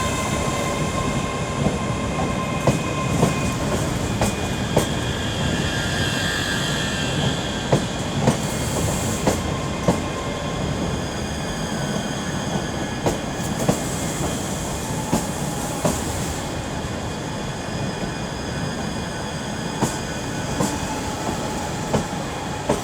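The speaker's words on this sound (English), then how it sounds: "now coming in here will be 385106 and 118 with a terminating ScotRail service from Edinburgh" ScotRail Class 385 electric units 385106 and 118 rolling into Glasgow Queen Street on a terminating service from Edinburgh, a sustained loud rumble with rhythmic wheel clicks and some high squeal, steady throughout with no talk.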